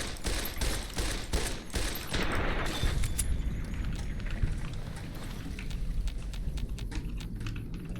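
Gunfire in the video game Fallout New Vegas: dense, loud bursts of rapid shots hammer close by in the opening seconds, then thin out into scattered, fainter pops over a low rumbling backdrop.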